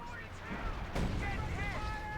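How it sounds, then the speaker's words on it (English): High explosive artillery shells land in a Company of Heroes 2 match, a loud broadband blast near the middle standing out over a dense battle din, with talk running throughout. "Will it work? Or will it be another series of wasted high explosive shells?"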